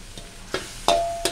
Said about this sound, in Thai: แล้วก็ผัดไปเรื่อย